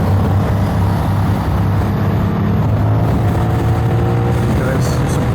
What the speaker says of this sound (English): This engine has 2 counterbalancers in it, which is pretty cool. It's a 270-degree parallel twin cross plane.